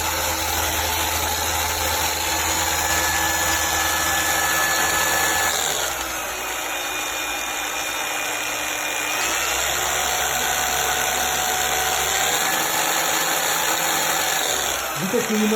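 An SPTA 20V cordless car polisher whirs continuously, shifting speed twice as its steady whine drops and then rises, loud and close, with no voices.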